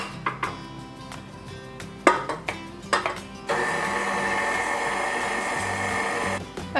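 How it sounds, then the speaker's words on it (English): Electric stand mixer beating three eggs with a cup of granulated sugar, starting with a few short bursts and then running as a steady, loud whir for several seconds before cutting off. "I'm going to beat the 3 eggs and the cup of granulated sugar in my mixer"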